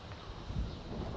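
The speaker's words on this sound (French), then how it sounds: "Bon, aujourd'hui il y a beaucoup de vent" Strong wind blowing outdoors beside a greenhouse in a vegetable garden, a loud, continuous rushing buffet against the microphone with low rumbling gusts, no voices.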